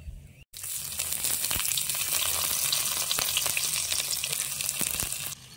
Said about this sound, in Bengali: এখন এর মধ্যে পেঁয়াজ কুচি দিয়ে দেব